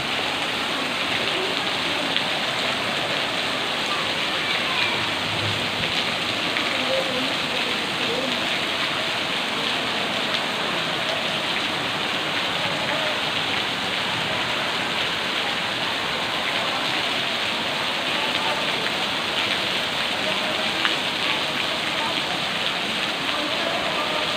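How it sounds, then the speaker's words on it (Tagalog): Heavy rain in a storm at a Padre Pio church, a steady loud hiss of downpour on surfaces that continues unbroken throughout, with no voices rising above it. "Lakas ng ulan."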